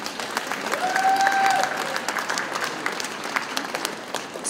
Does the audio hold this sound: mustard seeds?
no